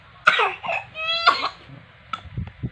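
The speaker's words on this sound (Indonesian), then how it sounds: "batuk" A person coughs a few times in short, harsh bursts with a throaty, strained tone, close and fairly loud, followed by softer rough breathy sounds.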